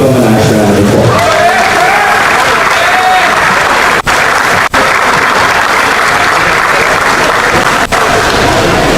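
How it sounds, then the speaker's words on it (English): Sustained, loud applause from an audience fills a junior fair show arena at Wayne County, a dense wash of clapping that continues without a break. "Give them a nice round of applause."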